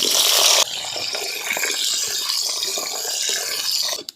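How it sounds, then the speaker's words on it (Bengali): Potatoes go into hot oil in a pan, setting off a loud, steady frying hiss that follows an initial sharper gush and continues evenly until it cuts off abruptly. "আলুগুলো ভেজে নেব।"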